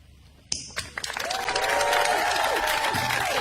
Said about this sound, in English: do like a whoop it up really loud so they can hear us in the building, cheer and scream for the educators